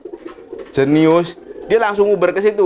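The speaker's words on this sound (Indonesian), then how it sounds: "Jadi kadang ada merpati nih kan giring keras seperti ini" A domestic pigeon gives loud courtship cooing (giring), with two strong, close, rolling coo phrases. Someone speaks over the calls.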